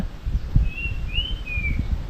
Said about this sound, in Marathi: हा पक्षी एकच एकच आवाज येतो मस्त